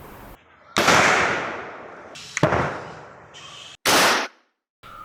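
Several loud, sharp blasts like gunshots boom out one after another from a carbide-fired PVC pipe sound gun used to scare off wild animals, each followed by a rumbling tail, with brief silences between.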